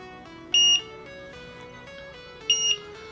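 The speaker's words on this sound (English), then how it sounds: "you can hear that beep" Two short, high electronic beeps about two seconds apart from a Drone Keeper Micro device, sharp and clear over a faint tonal background.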